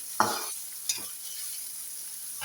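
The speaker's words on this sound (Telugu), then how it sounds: "ఇప్పుడు ఆనియన్స్ వేసుకున్నాము. లైట్ గోల్డ్ కలర్ వచ్చేసి ఫ్రై చేసుకుందాము." Onions frying in hot oil for liver curry, a soft continuous sizzle with two brief stirring scrapes near the start, close and fairly quiet.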